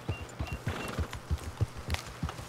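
Horse hooves clip-clop at a steady walking rhythm in Red Dead Redemption 2, about nine distinct close, moderately loud footfalls over a faint background hum, with no talking.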